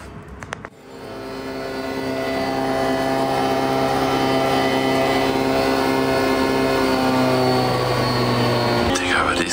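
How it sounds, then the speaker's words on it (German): A coffee machine roars like an airplane, a loud, steady droning whine that builds quickly, holds for several seconds and then cuts off abruptly. "Flugzeug/Kaffeemaschine oder was?"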